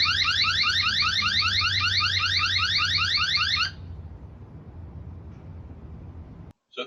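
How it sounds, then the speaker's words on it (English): A Eufy SoloCam E40 standalone security camera sets off its alarm, a loud rapid warbling electronic siren that sweeps repeatedly for about three and a half seconds, then cuts off abruptly, leaving quiet room noise. "let me go ahead and show you how well the alarm works on here"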